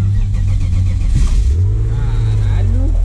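Manual BMW 328 engine firing up and revving, a loud steady engine drone with rising and falling pitch as the throttle is blipped, heard close alongside someone talking.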